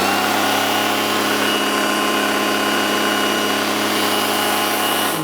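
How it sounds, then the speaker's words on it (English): Milwaukee M18 brushless string trimmer running at high speed, a loud, steady electric whine held throughout, close and without speech. "now on the dedicated trimmer right here, I'm gonna just show you how this one sounds on high speed."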